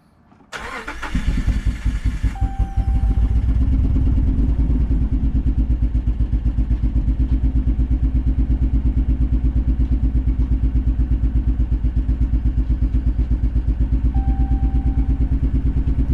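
A 2009 Hemi 1500 truck V8 cranks and fires, then settles into a loud, steady idle with a slightly uneven pulse from misfiring, running alone without talk.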